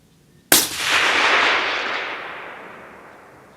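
One sharp shot from a suppressed 6.5x55 rifle on a shooting range cracks suddenly, then rolls away in a long fading echo lasting several seconds, loud and alone with no voices.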